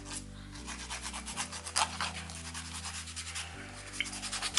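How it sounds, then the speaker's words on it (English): A nail file shaping natural fingernails gives a soft, steady scratchy rubbing. It is faint and close, with quick back-and-forth strokes and a low hum underneath. "Just file them a bit,"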